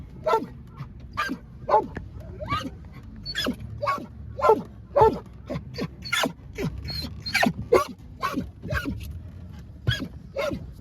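A happy puppy named Lincoln whimpers and yips in rapid, uneven bursts at close range, the sharp high cries tumbling over one another with no talk in between.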